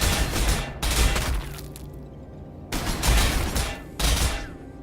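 Orc units firing in the Warhammer 40,000 Sanctus Reach strategy game, several loud bursts of heavy gunfire and crackling impacts arriving in waves roughly every second or two, with quieter rumbling between the volleys.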